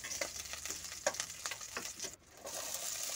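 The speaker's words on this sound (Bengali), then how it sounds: "এখন লঙ্কাটাকে একটু ভেজে নিচ্ছি।" Chopped green chili frying with black cumin in mustard oil crackles and sizzles close by, with quick spits and pops over a constant hiss, and briefly dips near the end.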